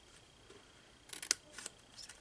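Scissors snipping through craft paper while trimming pieces for a decorative storage box, a few short quiet cuts clustered near the end, close and faint with no talk.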